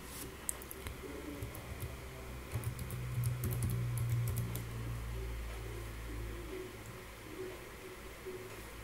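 Quiet, rapid clicking of a computer keyboard as a username is typed, with irregular keystrokes spread across several seconds, a low hum beneath, and a pigeon's soft cooing partway through.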